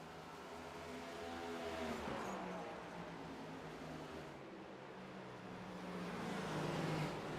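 Race cars circling Iowa in a racing video game, engines whining and rising in pitch as they accelerate and pass, a steady moderate-level drone throughout.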